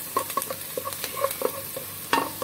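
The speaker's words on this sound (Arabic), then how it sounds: "شوحنا البصلة كده" Onion sautéing in a pan, a soft sizzle under a series of light scraping stirs and taps of a utensil against the pan, close and fairly quiet, in an irregular rhythm.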